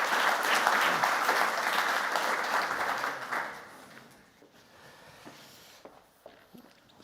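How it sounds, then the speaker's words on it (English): Audience applause welcoming a panel onto the stage at a lecture on nature-based approaches for Europe, loud sustained clapping for about three and a half seconds, then fading to scattered claps and quiet room noise. "Give them a round of applause as well."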